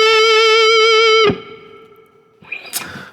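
Distorted electric guitar plays a slow pentatonic rock ballad lick, a long sustained bent note ringing with heavy effects and reverb, then fading before a few quieter picked notes at the end.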